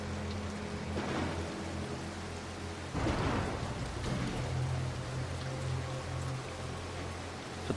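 Rainstorm in the video game Mark of the Ninja, with constant hissing rain and two rolling thunder bursts, one near the start and a bigger crack that rumbles off, no talking.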